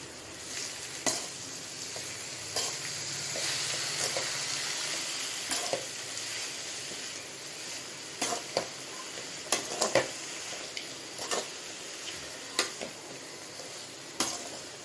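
Ponnanganni spinach and egg stir-fry in a pan, a quiet continuous sizzle punctuated by sharp clicks and scrapes of a spatula, which come more often in the second half, close by and without speech.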